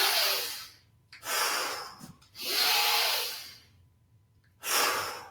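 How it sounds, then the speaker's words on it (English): Slow, deep breaths from a breathing exercise: long airy inhales and exhales follow one another in a calm rhythm, close and fairly quiet, with no talking. "You need this breathing."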